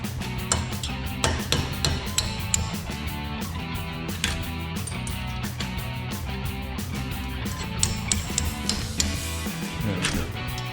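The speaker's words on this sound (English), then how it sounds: "now you can take your roll pin punch, and a hammer, and you're gonna knock the pins out." A hammer drives a roll pin punch to knock out brake caliper pins on a 2008-2021 Dodge Challenger, producing a long run of close, sharp metallic taps in an irregular but steady rhythm.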